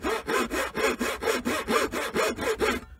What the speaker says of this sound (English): So with your saw, thing about fret saws, don't try and push it. You got a lovely sharp blade,